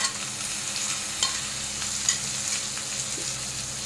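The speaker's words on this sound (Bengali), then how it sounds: "এরপরে দিয়ে দেবো কুচনো টমেটো," Chopped tomatoes fry with a steady broadband sizzle in a pan while a spoon stirs them, giving a few soft scraping knocks over the continuous hiss as a Bengali stingray curry is cooked. No one speaks.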